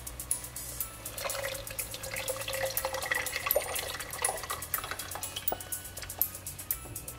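Cooked tur dal is poured into a pot for ginger lemon rasam, giving a steady, close liquid pouring and splashing sound with small drips, continuous for several seconds and moderately quiet, with no talking.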